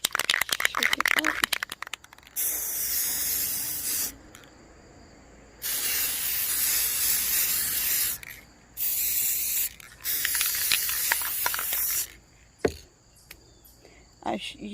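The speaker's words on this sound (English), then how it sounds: "So just quickly spray." An aerosol can of spray paint hisses in several sharp bursts of a few seconds each, close by, with short pauses between them and some clicking and handling noise at the start.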